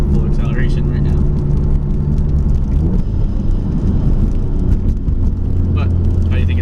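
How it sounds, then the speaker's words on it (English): EcoBoost Mustang with muffler delete and catless downpipe under full acceleration, engine misfiring, a loud steady droning exhaust roar heard from inside the car with some talk over it. "You can hear it like misfiring when I'm full acceleration right now."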